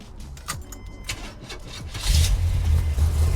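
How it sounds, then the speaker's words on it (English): A 1980 Chevrolet Corvette engine cranks and catches, then settles into a loud, steady rumble after a few seconds of quieter clicks and jingling. "Let me start it up."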